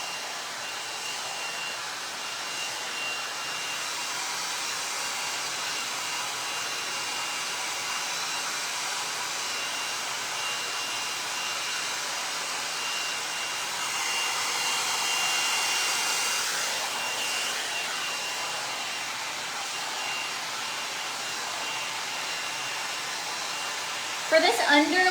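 A hair dryer blows steadily and continuously while short hair is styled into a 90s blowout, its whooshing airflow holding level throughout with a brief louder burst right at the end.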